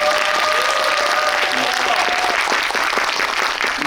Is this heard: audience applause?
yes